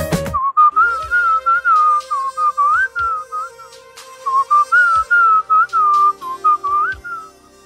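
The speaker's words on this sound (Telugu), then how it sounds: "విజిల్ బాగా చేస్తున్నాడు కదా" A man whistles a lively tune in clear, close, bright phrases with short breaks between them, alone with no talking over it.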